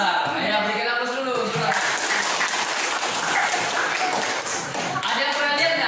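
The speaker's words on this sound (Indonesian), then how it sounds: "berikan aplaus dulu." Schoolchildren in a classroom clapping together in a steady burst of applause that fills the whole stretch, with voices mixed in under the clapping.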